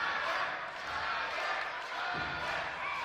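An arena crowd at a wrestling event in St. Thomas keeps up a steady, broad roar of cheering with a dull thud partway through, while a commentator's voice runs faintly underneath.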